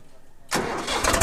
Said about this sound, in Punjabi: ਤੁਹਾਨੂੰ ਸਟਾਰਟਿੰਗ ਦਿਖਾਉਣੀ ਆ ਟਰੈਕਟਰ ਦੀ